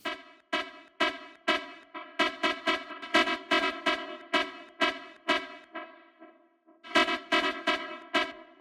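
A tech house synth melody plays as punchy, evenly pulsing plucked stabs, each note trailing into reverb and delay echoes, with a short gap before the pattern returns loud and clear.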